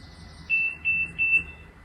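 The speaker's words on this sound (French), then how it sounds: "Je sais pas d'où vient ce bip." Three short, high-pitched electronic beeps in quick succession, clear and moderately loud over a quiet background.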